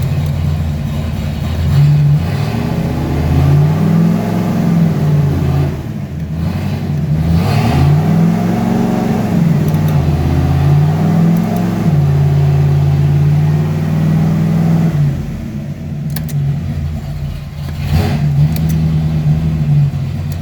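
A 1995 Ford Mustang swapped with a C4 drivetrain revs through the gears, its engine note rising and falling in repeated loud sweeps, close and steady with brief dips between shifts.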